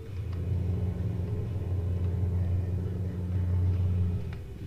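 A heavy truck engine in Euro Truck Simulator 2 rumbles steadily at low pitch, a constant droning motor hum with a slight swell near the end.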